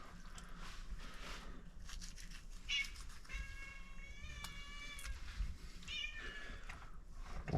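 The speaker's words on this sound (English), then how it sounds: "Don't mind the cat." A house cat meows several times in a kitchen where a turkey is being prepped for the smoker, over quiet background handling noise, with soft, fairly close cries spaced a second or two apart.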